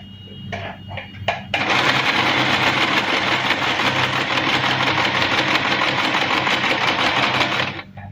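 A sewing machine stitches fabric during a simple kids' sewing project, starting with a few short bursts and then running loud and steady for about six seconds with a mechanical hum before stopping.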